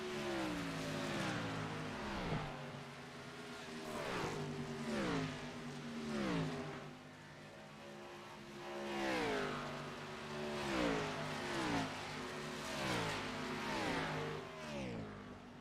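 Race cars roar past on the oval at Texas Motor Speedway during a NASCAR Xfinity Series race, each engine whine rising and falling in a steady stream of pass-bys across the whole stretch, heard at a distance.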